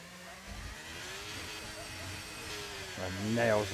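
Race car engine in a racing video game at Monaco, a steady mid-pitched drone that swells into a rising rev near the end, under a commentator talking.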